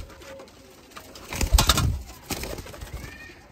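Sialkoti pigeons cooing, soft low throaty coos rising in the middle with faint bird chatter and rustling around them.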